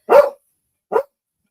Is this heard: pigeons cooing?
no